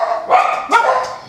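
A dog barks close by in a kitchen during home baking, a few quick yappy barks in two short bursts with slight whimpering tones, heard alone without talk.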